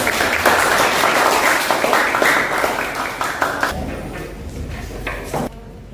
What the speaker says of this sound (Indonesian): Yuk kasih tepuk tangan dulu